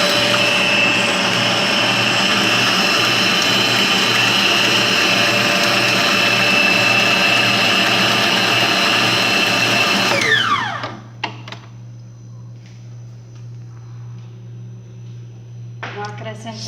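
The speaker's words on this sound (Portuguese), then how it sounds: "Aí eu vou bater os ovos" An electric mixer beats eggs for a cassava cake batter with a loud, steady, high whirring drone for about ten seconds, then winds down and stops, leaving faint kitchen sounds.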